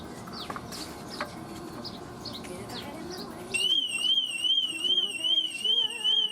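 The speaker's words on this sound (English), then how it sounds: "And I forgot my alarm's on" An electronic alarm starts partway through, a rapid warbling high-pitched beep that repeats steadily and loudly over background noise.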